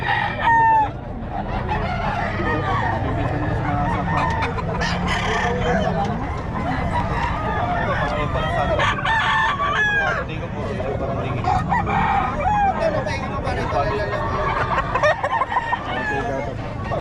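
Roosters crow repeatedly and chickens cluck amid a lively outdoor fowl sale of Boston-breed game birds in Pampanga, with a steady hubbub of voices and people talking nearby throughout.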